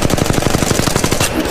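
Rapid automatic gunfire in the mobile battle royale game Apex Legends Mobile, a loud, steady burst of closely spaced shots with a brief pause near the end.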